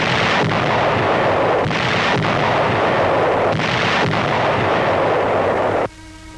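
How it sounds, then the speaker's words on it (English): Heavy howitzers firing in a 1945 WWII newsreel from the Philippines, a loud sustained barrage of booming blasts with repeated reports roughly every second, dense and continuous, no talk, ending abruptly. "entrenched Japs ahead are pounded by our heavy howitzers"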